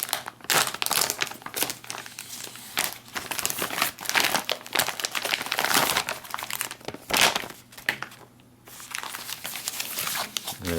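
A retort pouch from a Chinese PLA Type 09 self-heating military ration is torn open at its notches. Loud, close crinkling and ripping of the foil-plastic packaging comes in irregular bursts, and a few brief pauses break up the handling.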